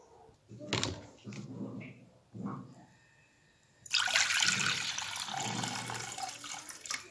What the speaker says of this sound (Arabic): عصرت الليمون أو الحامض رح نحطهم بطنجرة صغيرة مثل ما شايفين ورح نضيف فوقهم المي